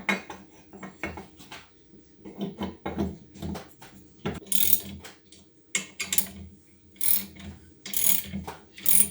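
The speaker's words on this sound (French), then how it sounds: "Toujours serrer la culasse en croix, hein." A ratchet tightens the cylinder head on an MBK 51 moped, giving quick clicking strokes and metallic clinks of tools in irregular bursts, fairly close and moderately quiet.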